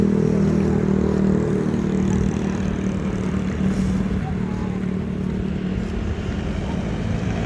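Steady low engine rumble and road noise inside a moving car, continuous and fairly loud throughout, with no talking.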